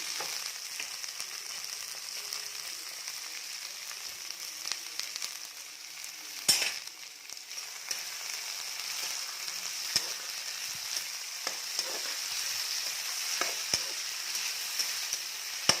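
Vegetables with cabbage for veg chow mein frying in a pan, a continuous soft sizzle with scattered stirring scrapes and clicks, one sharper knock partway through.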